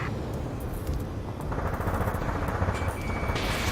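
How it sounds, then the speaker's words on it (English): Rapid automatic gunfire from the Ace Combat 7 video game, in a city under martial law, rattles in dense, continuous bursts that grow louder partway through, close and harsh, with no talking. "Gunfire and the roar of jets echoing through the streets."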